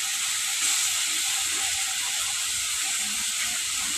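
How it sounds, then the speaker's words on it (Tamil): Ginger and garlic go into a hot pan with mutton for a home-style mutton thokku, giving a loud, steady, close-up sizzle and hiss that continues without a break. "இப்போ இஞ்சி பூண்டு சேர்த்துக்கலாம்."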